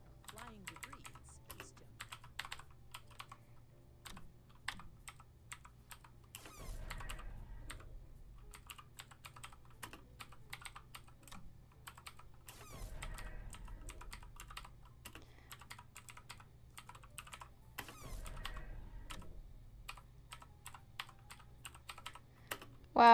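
Fast computer keyboard typing during the Space Junk level of the Mavis Beacon typing game: steady, close, crisp key clicks running continuously over a low background hum, with no talking.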